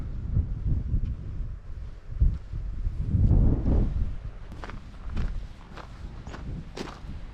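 Quick footsteps crunch and scuff over rocky ground and boulders on an Icelandic shore close by, with gusts of wind buffeting the microphone and a few sharper clicks near the end.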